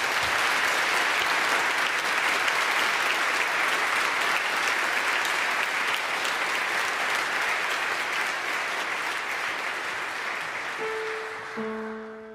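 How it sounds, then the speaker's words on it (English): A concert audience gives long, dense applause at a celebration of Black American music, steady and full throughout before tapering at the end as a faint musical tone enters. "I want to take an opportunity right now to offer an applause of thank you to Professor Southern."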